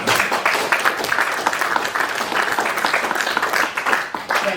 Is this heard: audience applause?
yes